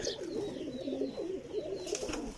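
Parwazi flying pigeons coo in soft, rolling throaty phrases, several overlapping murmurs close by and fairly quiet, with a brief brighter chirp near the end and no talking.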